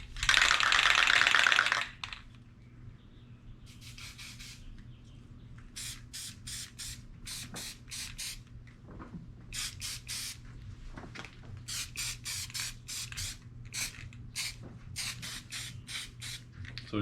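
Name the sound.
spray paint being sprayed onto canvas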